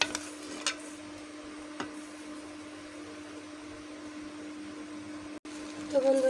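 Bitter gourd and potato frying in a pan with onion, green chili and garlic: a soft, steady sizzle runs throughout, with a couple of faint clinks and no speech.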